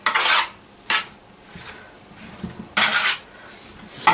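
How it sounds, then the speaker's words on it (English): Roast potatoes are turned over in a roasting tin, with several close metallic scrapes and clanks of utensil on tin in irregular bursts and quieter rubbing between, no voices. "I've started turning the roast potatoes over"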